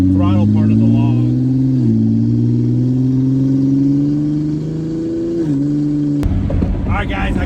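Turbocharged Ford Explorer ST with a big turbo kit, driven gently to warm the transmission: a steady, loud engine drone with smooth shifts in pitch, a brief drop near the end, and someone talking over it.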